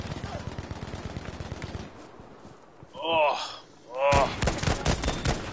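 Rapid gunfire from a Battlefield V match, dense bursts in the first two seconds, then a pause with a couple of short whooshing effects before loud firing resumes. A man's brief exclamation sits under it.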